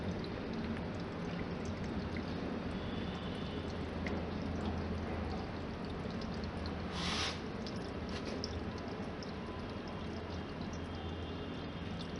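Water flows from an RO water purifier after a new filter cartridge is installed, a continuous close pouring trickle with splashy texture, steady throughout, with no talking.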